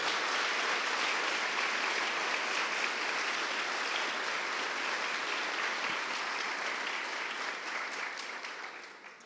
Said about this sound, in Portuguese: Dê um aplauso bem forte ao Espírito Santo de Deus.